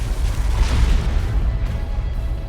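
Orbital bombardment explosion in the Dawn of War 2 strategy game: a heavy low rumbling boom that swells and sustains as a continuous roar, loud and dense throughout.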